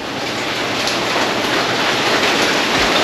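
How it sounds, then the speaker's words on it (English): Steady rain falling outdoors, a dense, even hiss that stays loud and constant throughout with no voices. "And it's perfect because it's raining."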